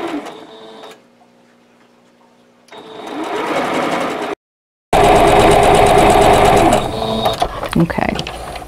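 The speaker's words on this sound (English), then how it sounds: "then I'm going to sew right on that line" A sewing machine stitches quilt block fabric along a marked line in loud rapid bursts separated by pauses, the motor whirring close by with a brief silent gap between runs.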